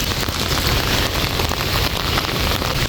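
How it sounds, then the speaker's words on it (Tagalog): A sudden rain shower pours down hard and close at Malacañang, a dense, loud, unbroken hiss of drops striking surfaces with no voices. "hindi pa ako makakaalis kasi biglang umulan"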